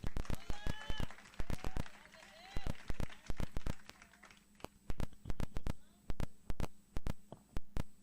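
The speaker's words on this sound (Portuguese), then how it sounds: "Dê uma salva de palmas para o Senhor." A church congregation at a Sunday morning retreat service claps for the Lord in sharp, rhythmic bursts, close and crisp, with faint voices in the background.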